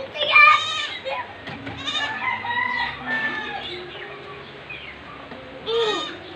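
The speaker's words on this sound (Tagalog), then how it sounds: "Dito ang kambing oh." A goat bleats on a farm amid other animal calls, with wavering cries rising over a quiet background, spread across several bursts.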